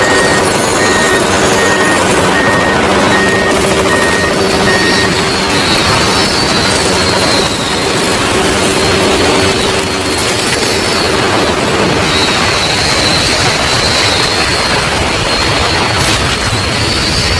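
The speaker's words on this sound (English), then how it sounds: "Bob, look at that weather helicopter." A weather helicopter in an animated truck cartoon gives off a loud, steady engine roar that fills the whole stretch with no pauses and no talking.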